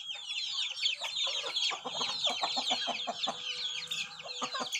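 A flock of native farm chickens kept on corn feed clucks and chatters continuously, dense overlapping calls close by with occasional louder bursts and no speech.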